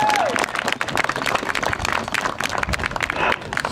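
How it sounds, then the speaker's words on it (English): A senior night crowd at a high school football game applauding a player, dense sustained clapping with cheers and a brief whistle near the start. "How about a big round of applause for number 39"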